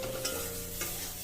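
Green chillies and dry chilli powder fry in a pan, a brief steady sizzle with two light scrapes of a stirring spoon.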